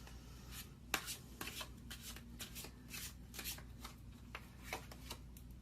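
Tarot cards shuffled by hand in a quiet room, a steady run of soft riffling and rubbing strokes with a few sharper snaps as cards are drawn, close and fairly faint, no talking.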